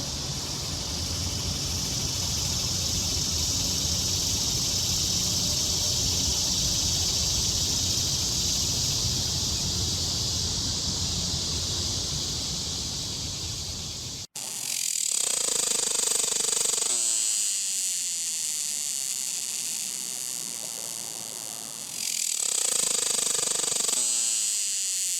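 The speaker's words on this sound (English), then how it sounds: "I was in the South while the cicadas are going off" Cicadas droning in the American South, played back as a recording: a dense, steady high-pitched buzz fills the first half, then cuts out and returns in pulsing, rising-and-falling waves with brief gaps.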